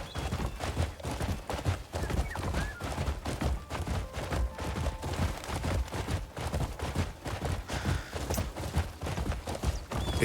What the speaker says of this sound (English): At least the horse is decently fast.